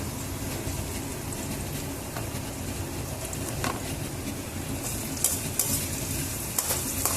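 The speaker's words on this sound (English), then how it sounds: "Adding salt ensures that the onions are cooked faster." Onions fry with salt in a pan, giving a loud, constant sizzle close by, with occasional scrapes and clinks of a utensil stirring them and no talk.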